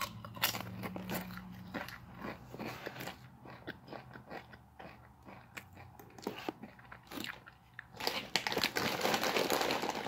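Crunchy potato chips being eaten, with sharp crisp bites and chewing crunches mixed with crinkling of a chip bag, close and irregular, growing busier near the end, no talk.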